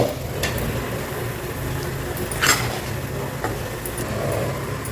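Besan burfi mixture cooking in ghee in a pan gives a steady low sizzle with occasional scrapes and light taps of a spoon, close and continuous.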